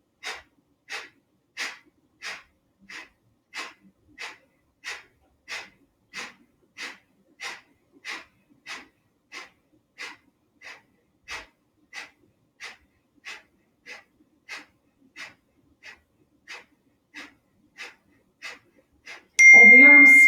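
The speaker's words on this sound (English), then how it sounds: "take a deep breath in" Rhythmic quick breathing in a yoga session, about twenty short sharp forceful exhalations evenly spaced through the nose, close and clear, ending with a brief louder noise.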